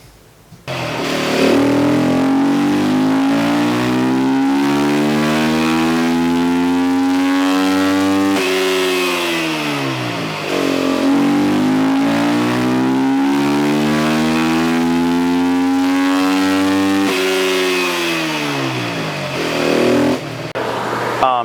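A 2022 Beta 350RR Race Edition dirt bike engine on a dyno, seat off with the airbox opened, climbs through two long, loud full-throttle sweeps to high revs, each dropping back before the next pull.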